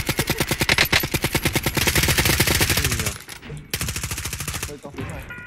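Rapid automatic gunfire in Call of Duty Warzone, sprayed at a car in long unbroken bursts. The shots are loud and close, with a brief pause before the firing resumes.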